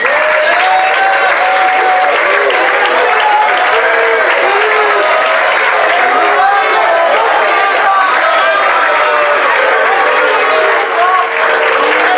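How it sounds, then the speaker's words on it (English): A banquet crowd gives a loud, continuous round of applause for the boys soccer coaches standing up, with some cheering mixed into the clapping throughout. "give you a quick round of applause"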